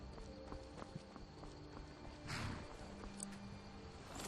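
Horse hooves clip-clop at a steady walking pace in Skyrim, a fairly quiet rhythmic patter over a low ambient game soundscape, with a brief louder swell midway.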